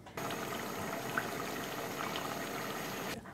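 Meat simmering in a pot for biryani gives a steady low bubbling and hiss at moderate level, continuous with no talk.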